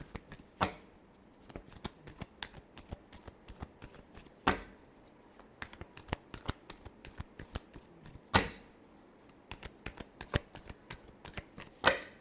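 A deck of tarot cards is shuffled by hand, giving soft, repeated riffling snaps and taps in an irregular rhythm, close and quiet with no talk.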